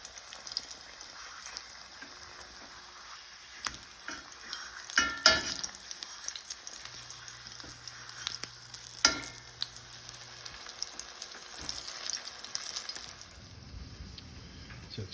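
Food frying in oil in a pan, a soft continuous sizzle with occasional crackles and louder pops, fairly quiet and without talk.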